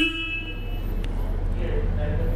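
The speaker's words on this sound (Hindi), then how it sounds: "यहाँ पे हॉर्न का बटन, काफ़ी हैवी हॉर्न है" A 2022 Royal Enfield Classic 350 motorcycle horn gives a brief, steady toot at the start, then fades into a low engine hum with someone talking nearby.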